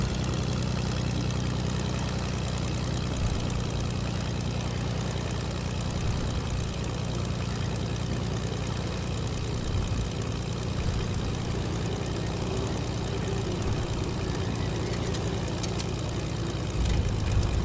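Steady, loud drone of a plane engine in the video game Fortnite, a low continuous propeller-like hum that holds unchanged for the whole stretch with no talk over it.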